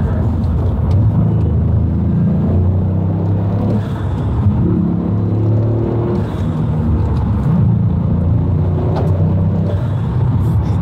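Toyota Yaris GR fitted with an Eventuri intake and stock exhaust, a steady loud engine roar with low rumbling drone throughout, like a car under load, heard from inside the cabin.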